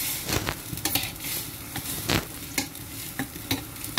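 Potato and eggplant stirred in a frying pan, with soft scraping strokes and bursts of oil sizzle repeating every half second or so, close and steady with no talking.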